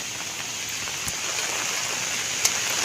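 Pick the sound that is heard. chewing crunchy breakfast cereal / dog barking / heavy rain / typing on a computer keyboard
heavy rain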